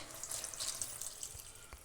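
Water pours into a pot of simmering tamarind bud sambar, a short, soft splashing stream lasting under two seconds before stopping abruptly.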